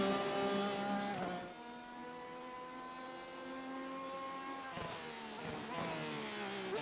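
Porsche 911 RSR GTE race car engine at Silverstone in iRacing, a steady high-pitched harmonic whine that dips briefly as if shifting, then climbs again, loud and continuous throughout.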